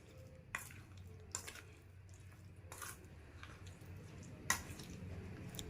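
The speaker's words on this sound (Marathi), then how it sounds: "तेल टाकून व्यवस्थित मिक्स करूया" Amla pickle being stirred with oil, giving a few sharp scraping clinks of a spoon against the pot over a soft, wet squelching mix, close and fairly quiet.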